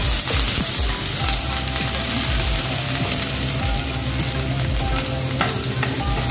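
Cumin seeds with grated garlic and ginger sizzling and frying in hot oil for a tadka, a steady close crackle with occasional stirring clinks, no voices.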